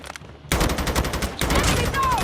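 Rapid bursts of video game gunfire crackle loudly after a brief quiet opening, with dense repeated shots and a second volley near the end, and faint talk underneath.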